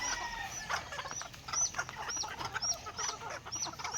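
Chickens cluck softly and continuously near small chicks, whose high, thin peeps repeat over the clucking, close by.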